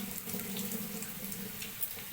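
Tap water runs steadily into a sink while leafy greens are washed, a constant close rushing wash with no talk over it.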